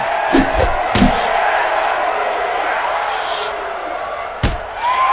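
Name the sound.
crowd noise in a wrestling video game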